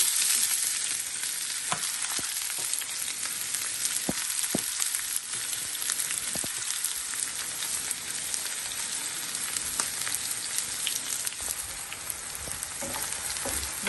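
Onions for a boal fish do-piyaza fry in hot oil, giving a steady, close sizzle with scattered pops and crackles throughout, no voices.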